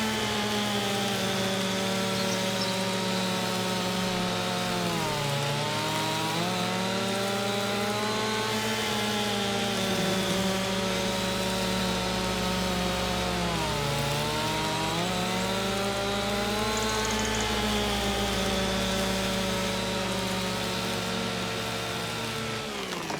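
A chainsaw cuts through a very large tree in Farming Simulator 25, its engine held at a steady loud whine for over twenty seconds, dipping in pitch twice as the blade bogs into the wood and then recovering.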